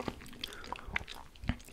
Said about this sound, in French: comme si tu prenais une tablette de chocolat au lait, que tu la replis sur elle-même et que tu croques